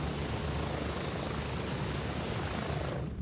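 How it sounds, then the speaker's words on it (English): In-game helicopter noise from a first-person shooter, a steady whirring rotor and engine roar that fills the scene evenly and stays constant throughout. "This is the full heli sound, Kyle."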